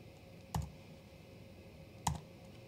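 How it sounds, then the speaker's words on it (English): Two sharp, separate keystroke clicks from a computer keyboard entering editing shortcuts while trimming R3D footage, fairly close and quiet, about a second and a half apart in a faint room hush. "I'm just using keyboard shortcuts to make my life a little bit easier."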